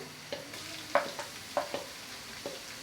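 Onions with ginger and garlic sizzle and crackle steadily in a hot pan for beef pulao, with several sharp scraping clinks from stirring spread unevenly across the stretch.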